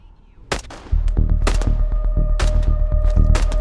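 Gunfire in a survival VR video game: a rapid volley of loud, sharp shots cracking in quick succession, then a dense sustained rumble of shooting and booming impacts, close and intense with no talking.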